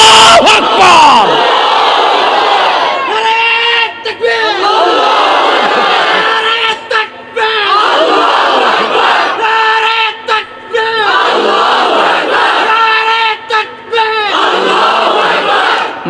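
A large crowd at a Bangladeshi religious rally chants the slogan Allahu Akbar in loud, repeated unison roars, each chant separated by short pauses in a steady call-and-response rhythm.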